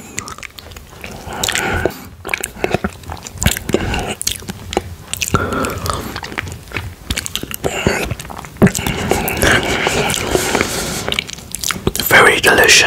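Close, intimate wet sounds of applesauce being eaten, with squishy mouthfuls, lip smacks and soft sticky clicks repeating irregularly throughout.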